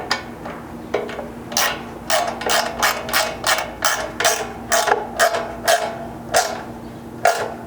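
Hex key tightening two locking nuts on the bottom of a Chevy Colorado rear strike bumper, heard as a run of quick, close metallic ratcheting clicks in uneven bursts, with no talking.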